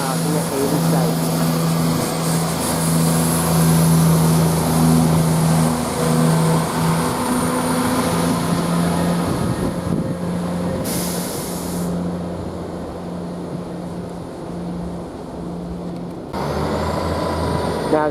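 A train departs Ely station on the 12:15 Stansted Airport to Birmingham service, a steady engine drone with sustained low hum and rising rumble, loud and close, with a sudden higher tone change near the end.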